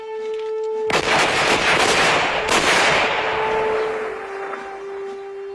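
A volley of rifle gunfire rings out on a firing range, a sharp loud burst of shots followed by a second crack, then a long rolling echo fading away under a steady high tone.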